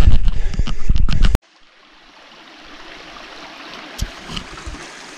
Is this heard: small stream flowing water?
yes